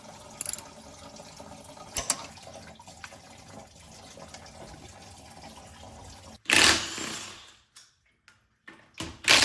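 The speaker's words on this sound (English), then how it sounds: "So the wheels are off, fluids are draining" Automotive fluids drain from a 1997–2004 C5 Corvette during a cam install, a faint steady trickle and drip behind shop noise, broken by a louder rushing splash near the end.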